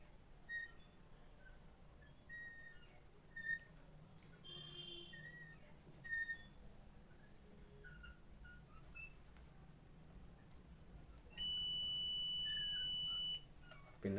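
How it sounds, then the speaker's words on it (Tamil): An audio pin cable under test emits a steady electronic test beep lasting about two seconds near the end, loud and continuous against quiet room noise with faint chirps earlier. "Beep sound கேட்குங்களா?"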